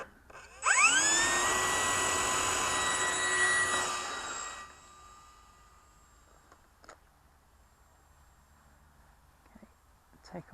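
A radio-controlled HK Mustang model plane's motor spools up abruptly into a loud, high whine on its maiden takeoff, holding for a few seconds before fading away into the distance.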